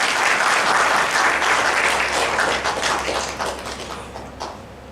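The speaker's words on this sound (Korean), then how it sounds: "자축하는 박수로 스스로 박수 한번 해주세요." A church congregation breaks into loud, dense applause during a worship service, clapping strongly at first and then gradually thinning and fading toward the end.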